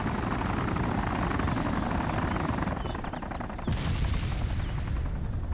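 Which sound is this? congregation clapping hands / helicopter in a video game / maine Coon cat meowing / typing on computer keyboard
helicopter in a video game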